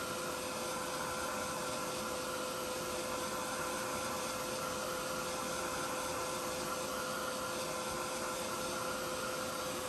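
A heat tool or dryer blows air steadily onto a craft card, a constant whirring hiss held at even level throughout with no breaks.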